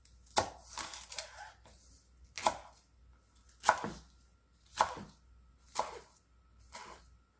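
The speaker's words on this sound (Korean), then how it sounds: "그리고 먹기 좋은 크기로 이렇게 잘라줍니다" Green garlic stalks cut with a knife on a board: about six separate crisp chops at a slow, even pace, close and fairly quiet, with near silence between strokes.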